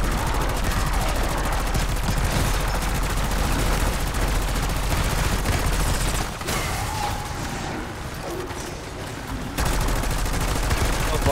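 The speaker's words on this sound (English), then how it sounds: "Getting some hip fires." Dense, continuous hip-fire gunfire in Call of Duty Black Ops 6, rapid automatic shots loud and close with a brief lull partway through.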